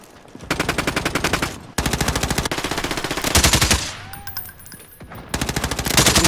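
Rapid automatic gunfire in the video game Warzone, several loud sustained bursts of closely spaced shots separated by brief pauses.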